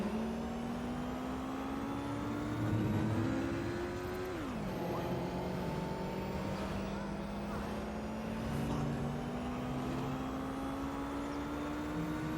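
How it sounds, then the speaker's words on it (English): Engine drone of trucks and cars in Watch Dogs: Legion traffic, a steady revving tone that drops in pitch and then climbs again, with faint speech in the background. "These trucks are gonna make it tricky."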